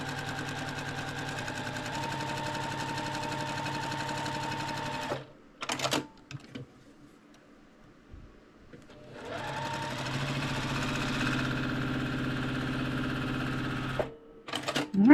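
Sewing machine stitching a fabric seam for a quilted fabric basket, running steadily for about five seconds, pausing with a few clicks and handling sounds, then stitching again, close and clear.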